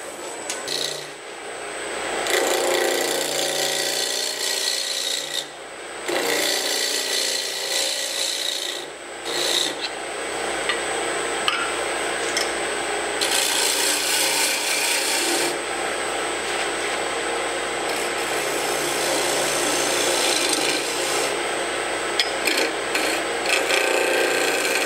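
A tool scrapes and rasps against spinning wood on a lathe, shaping the underside of an off-center turned wooden racer, with long continuous grinding passes broken by brief pauses and a steady motor hum.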